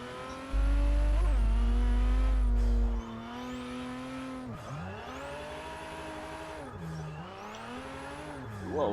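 Nissan Skyline GT-R R32 drift build in Forza 6, its engine revving high and swooping up and down through shifts as the car slides, with tire squeal, loud and close.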